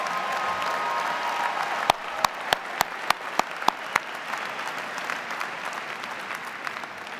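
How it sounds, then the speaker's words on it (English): A large crowd at a university commencement ceremony applauds in a broad, sustained wash of clapping, with a few sharp close claps standing out midway. "Maybe we should give one last applause for the family members, for the professors, for each other."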